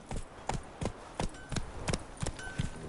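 The horse Roach clip-clops at a steady gallop in The Witcher 3, hoofbeats evenly spaced and moderately close, with little else audible.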